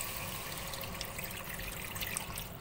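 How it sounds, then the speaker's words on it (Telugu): A small glass of water is poured into a hot pan while cooking Arabian-style sorbha adas, producing a continuous splashing, bubbling wash under a busy kitchen background. "ఇప్పుడు వాటర్ వేసుకోవాలండి ఒక చిన్న గ్లాసు."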